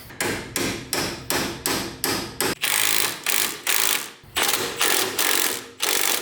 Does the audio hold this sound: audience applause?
no